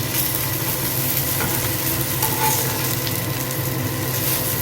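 Bombay duck (bombil) fish fries on a hot tawa, a loud, dense and continuous close-up sizzle with faint scraping as pieces are turned.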